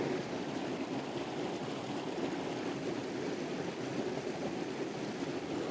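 A springtime river cascade pours steadily, giving a continuous full rushing wash of flowing water at moderate volume with no voices.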